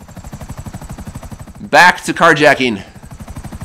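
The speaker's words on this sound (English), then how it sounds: "I'm going to go park my helicopter." A helicopter flies in the video game GTA V Online, its rotor thumping steadily throughout the whole stretch while someone speaks briefly over it in the middle.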